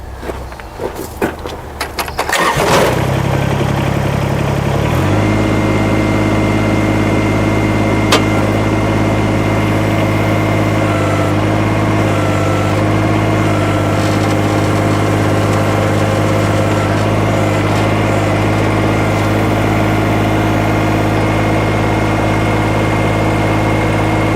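A Kubota backhoe engine idles with a steady, loud low-pitched drone and constant tonal hum, after a brief burst of clatter at the start, no voices.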